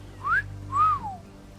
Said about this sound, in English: Emmett Till wolf whistled her.